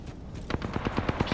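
Automatic weapon fire in Apex Legends, a rapid burst of about eight sharp, evenly spaced shots in the second half of the clip, fairly close and punchy.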